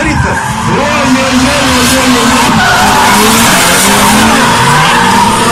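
Cars drifting in a tandem run at a Voronezh event, tyres skidding and squealing with wavering pitch over constant engine roar, loud and close throughout, with faint voices underneath.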